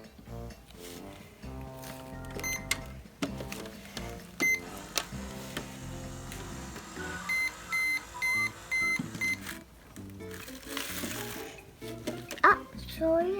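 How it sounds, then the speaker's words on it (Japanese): A toy microwave oven plays a busy electronic jingle with repeated beeps and chimes, fairly loud and steady, while a person talks quietly beside it. "混ぜたら 電子レンジの中に 入れて、"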